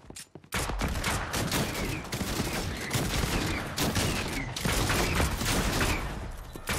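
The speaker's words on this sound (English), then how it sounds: "You're shooting through a fucking window." Rapid gunfire in the video game Fortnite, shots fired through a window, a loud sustained barrage of closely spaced cracks running for several seconds after a brief pause at the start.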